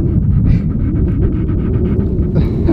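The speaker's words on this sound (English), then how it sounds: "Oh, he's panting." A dog pants hard and fast right beside the listener during an outdoor antler shed hunt, a loud, steady run of quick breaths with a faint whimper near the end.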